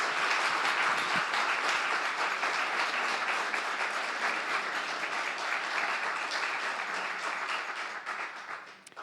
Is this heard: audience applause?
yes